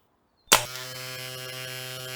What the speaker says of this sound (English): It's a cordless shaver.